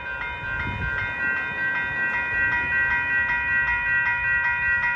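A Union Pacific train rolls past near Lincoln Park in Los Angeles, with a steady, sustained tonal whine and a faint rhythmic clatter of wheels repeating throughout, moderately loud and fairly close.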